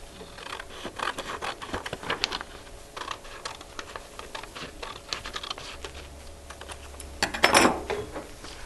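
Scissors cutting a paper rectangle into two triangles during a 5th grade math lesson on area, heard as a run of close, soft snipping and scraping clicks with a louder crisp burst near the end.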